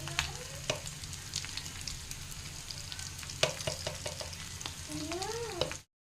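Spice paste fries in a hot pan with a steady, close sizzle. Stirring adds scrapes and clicks along the pan, and the sound cuts off abruptly at the end.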